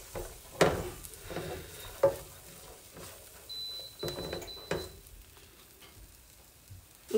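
Garlic sizzles in a hot pan while a utensil stirs it, with scraping strokes recurring every second or so over a soft, steady frying hiss; close and moderately quiet.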